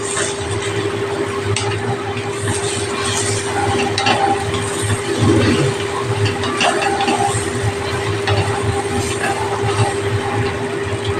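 Bread pieces being stirred in a hot pan for bread pulao, a continuous soft sizzle with scraping and turning noises under a steady low hum.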